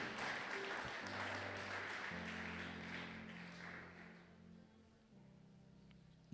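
A church congregation at a Sunday praise and thanksgiving service applauding for Jesus, steady sustained clapping with a low hum of music or voices underneath, tapering slightly before the end.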